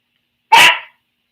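A single short, sharp dog bark rings out close and loud, then silence.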